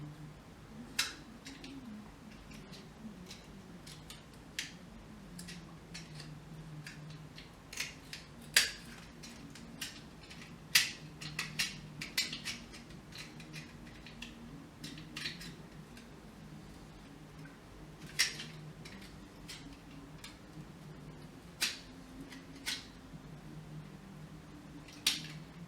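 Hand tool angle-cutting a spur into a wooden atlatl spear thrower, heard as sparse, sharp scraping clicks scattered irregularly over a soft steady background hum, close and fairly quiet.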